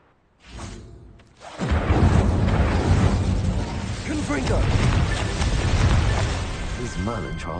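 A Confringo blasting curse goes off in Hogwarts Legacy: a low rumbling explosion erupts after a short whooshing build-up, then sustains as a loud, dense roar with crackling debris and magical shimmer for several seconds.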